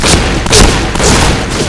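Rapid burst of shotgun blasts from the PointBlank first-person shooter game, loud booming reports fired in quick succession across the whole moment, close and punchy.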